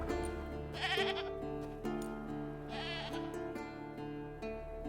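Goat bleating in the video game The Witcher 3, a tethered goat at a stake used as forktail bait, with several wavering bleats over a steady game music bed.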